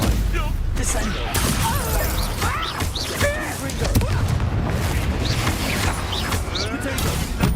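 Spell impacts from the Descendo slam spell in the Hogwarts Legacy video game, heavy booming crashes and shattering hits repeating through a dense, loud battle mix, with voices speaking over the action.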